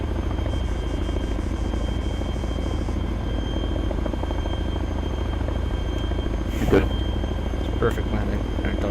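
A helicopter comes in to land in the video game ArmA 3, its rotor and engine making a loud, steady, continuous drone throughout, with a couple of brief sharp knocks near the end.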